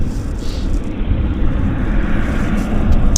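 An Air Canada airliner arriving from Toronto at Vancouver airport, a steady distant roar of jet engines with low rumble, continuous and moderately loud without speech.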